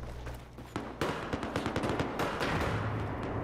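Gunfire fills a shooter game match, with a dense string of quick shots and overlapping bursts at moderate distance over a low background rumble.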